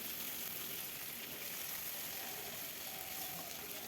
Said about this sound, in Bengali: মাছটা ভাজা প্রায় হয়ে গেছে আমার, এখন নামিয়ে নেব